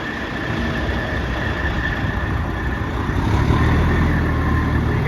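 A 1994 Spartan fire truck diesel idles with a steady, loud rumble and a faint turbo whine on top, the low drone swelling slightly toward the end.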